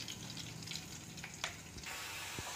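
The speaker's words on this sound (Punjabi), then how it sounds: "ਸਬਜ਼ੀਆਂ ਨੂੰ ਸੌਟੇ ਕਰਨ ਵਾਸਤੇ ਮੈਂ ਥੋੜ੍ਹਾ ਜਿਹਾ ਮੱਖਣ ਪਾਇਆ, ਇਹਦੇ 'ਚ ਪਾਵਾਂਗੇ ਜੀਰਾ" Cumin and asafoetida sizzling in butter as vegetables are sautéed for sambhar, a soft steady frying hiss with a few faint clinks, quiet and close, no talking.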